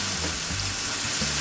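Pork chops sizzle in a hot pan with pimento seeds, giving a steady close crackle and hiss with faint scraping stirs throughout.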